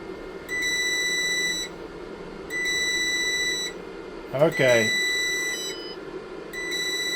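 Low-voltage alarm on a GRENER LiFePO4 12.8 V 100 Ah battery sounds during a discharge test near 10 volts: steady electronic beeps of about a second each, repeating with short gaps, with a brief spoken word partway through.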